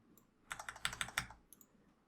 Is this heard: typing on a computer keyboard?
yes